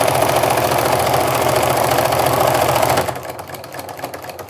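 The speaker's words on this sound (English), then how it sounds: "we're going to just feed another one in right after that and chain stitch these" Sewing machine chain stitching fabric strips with batting for a jelly-roll rug, a loud, steady rapid whirring stitch rhythm close by for about three seconds, then stopping and leaving quieter handling sounds.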